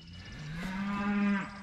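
Cattle mooing in a pasture on a farm, one long, loud, close moo rising and holding steady for over a second with no talk over it.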